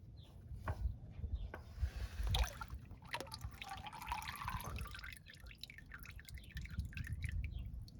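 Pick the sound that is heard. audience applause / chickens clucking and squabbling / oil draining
oil draining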